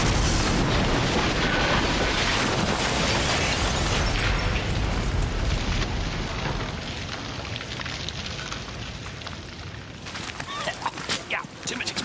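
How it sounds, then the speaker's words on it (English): Explosive charge set off in a glass water test, a big loud blast that bursts at once and roars on as a long, rumbling decay, fading over several seconds into fainter crackles and debris near the end. "Well, that was quite a big bang."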